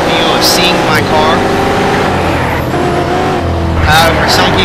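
Car engine in the racing game Need For Speed Shift, a steady loud droning roar with shifting pitch filling the whole stretch, with voice-like tones layered over it.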